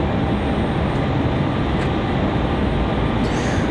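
Delta airliner departing Raleigh-Durham International, a steady loud broadband jet roar that holds constant throughout with no talk.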